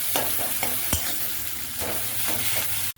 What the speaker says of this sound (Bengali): এবার এগুলোকে আমি একটু কুচনো মতো করে নেবো, ভেজে নেবো, যাতে এগুলো একটু পিস পিস হয়ে যায়।